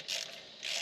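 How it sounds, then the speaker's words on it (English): A hand wrench ratchets on the sway bar end links of a Monte Carlo in two short, close bursts of quick metallic clicking with a brief pause between them. "there's a whole lot of wrench twisting on them end links."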